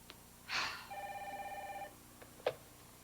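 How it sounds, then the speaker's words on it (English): A telephone rings in a soap-opera scene, a single electronic ringing burst of steady warbling tones lasting about a second, framed by a sharp breath before it and a brief click afterward, with no talk over it. "somebody answer the phone"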